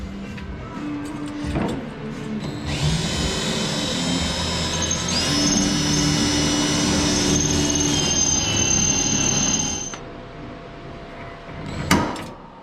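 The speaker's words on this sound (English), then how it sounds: "This is gonna be the end of this drill." A power drill, failing and giving off a burning smell, whines steadily at high pitch for several seconds, starting and stopping abruptly, with a brief clatter near the end.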